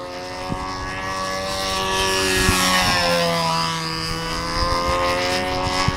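A control line model aircraft engine running low on fuel, holding a loud, high, buzzing whine whose pitch sweeps up and down as the plane circles past, with small clicks and bumps underneath; no talking.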